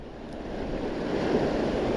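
Waves break and wash over a shallow reef at night in a continuous broadband roar of surf that swells slightly louder, fairly close, with some wind rumble and no voices.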